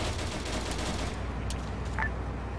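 Gunfire in the Arma 3 military game, a dense, steady rumble of distant shots and battle noise running throughout at moderate level, with a brief sharper burst near the end.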